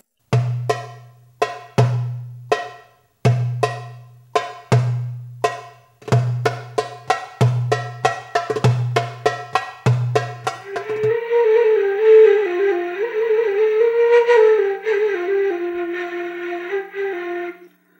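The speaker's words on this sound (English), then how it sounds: "Maksum has one doom in the beginning and one doom in the middle" Maksum rhythm on a hand drum: deep doum strokes with crisp higher taps repeating in an even cycle for about eleven seconds, then a sustained wailing reed-like melodic tone takes over.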